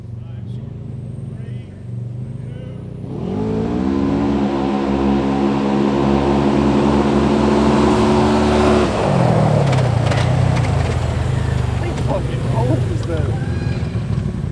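Street race cars launching from a standstill for a pink-slip race, engines roaring loudly with a rising tonal whine for several seconds, then fading into crowd noise and voices nearby.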